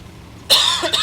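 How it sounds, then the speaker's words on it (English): A single close, loud cough bursts out after a moment of quiet, followed by a short rough throat-clearing tail. "so you may hear me cough every now and again"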